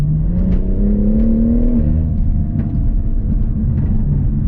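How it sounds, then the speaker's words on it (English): Loud BMW M140i engine revs up on a downshift in sport mode and then drops back with a deep exhaust rumble and whir, close and continuous. "when you put the car in sport and you put everything in sport and you do a downshift"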